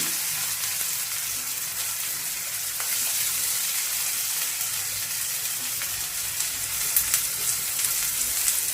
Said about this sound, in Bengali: তেলটা গরম হলেই পেঁয়াজ ছাড়বো কাঁচা লঙ্কা দিয়ে দিলাম